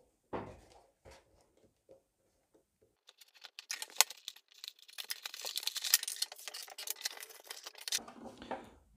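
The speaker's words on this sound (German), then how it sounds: "Wir begeben uns direkt ins Auspacken" A Mattel WWE Elite Alexa Bliss action figure being unpacked: a few soft knocks and taps at first, then a dense run of crinkling, tearing plastic and cardboard handling, fairly quiet and close.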